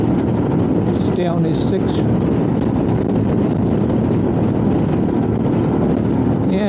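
Strong wind buffeting roars steadily over a Royal Enfield Himalayan motorcycle riding close behind a heavy goods vehicle on a dual carriageway at around 70 mph, with someone talking over the constant rush.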